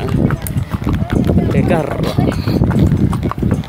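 Horse hooves clip-clopping during a horse ride at Tandon Ciater, a steady rhythmic patter running under near, continuous talk from riders.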